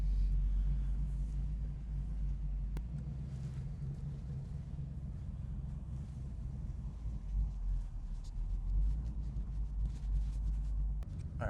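Tuned Ford Mustang driven on the road, its engine a steady low rumble throughout with a few mild swells in the second half, heard from inside the car with no talking.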